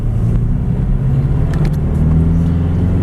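A 1986 Nissan D21 Hardbody King Cab pickup truck accelerates, its engine giving a steady, loud low rumble that builds slightly across a few seconds with no talk over it.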